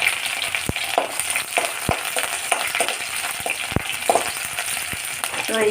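Chopped garlic and green chilli frying in a hot pan, with a steady close sizzle broken by sharp clicks and scrapes of stirring.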